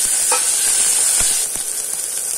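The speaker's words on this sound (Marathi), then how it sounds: "ते 1-2 मिनटं आपण परतून घेणार आहोत फोडणीमध्ये।" Shallots saute in hot oil for a tempering, giving a bright, steady hiss of frying with a few dull knocks and scrapes of stirring close by.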